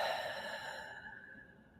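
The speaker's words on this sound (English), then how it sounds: "Exhale through the mouth." A slow, breathy exhale through the mouth, close and audible, fading gradually as the breath runs out.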